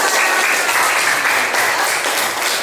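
Steady applause from a classroom of elementary pupils fills the whole stretch, dense, loud and continuous with no break.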